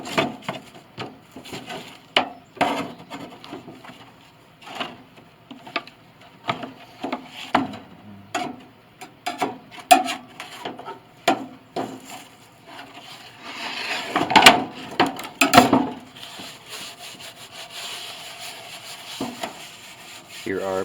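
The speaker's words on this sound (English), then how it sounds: "Here are parts of the board, stripping the finish off." Finish being stripped off parts of an 1881 Steinway Model A piano soundboard: repeated close scraping and rubbing strokes on wood in uneven bursts, with a denser stretch of rasping near the middle, no talking heard.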